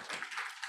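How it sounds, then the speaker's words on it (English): Brief light clapping from an audience applauding panelists at a sustainability forum, a short soft patter of a few hands, fairly quiet and cut off quickly. "So let's give the panelists a round of applause."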